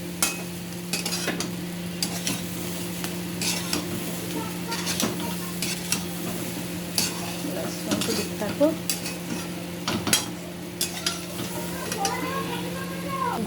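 Gobindobhog rice and mung dal for khichuri are stirred in a pot. A spoon scrapes and clinks against the metal in an irregular rhythm, close by, over a faint steady sizzle.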